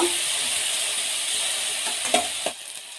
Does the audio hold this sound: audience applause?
no